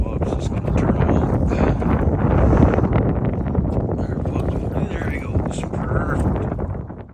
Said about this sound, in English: Unfortunately, the wind became too much to deal with, but Pops did get into some nice walleye